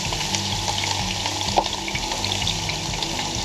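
Ribeye steak sizzling in a hot pan over a campfire, a loud continuous crackle and hiss with small pops, steady from start to finish.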